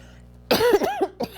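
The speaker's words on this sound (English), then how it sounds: "clear my throat just a minute" One close, loud throat clearing with a rough, gravelly rasp, followed by a short second rasp after a brief pause.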